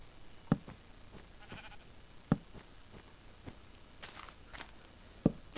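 Minecraft sheep bleat a few times at spaced intervals, interspersed with faint footstep-like taps, fairly quiet and with no talking.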